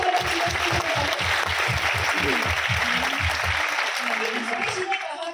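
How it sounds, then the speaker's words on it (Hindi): Loud, sustained applause from an audience cheering a group of achievers at a Modicare event, steady for about five seconds before tapering off, with a few voices and a low rhythmic pulse underneath. "जोरदार तालियां हमारे अचीवर्स के लिए बजा"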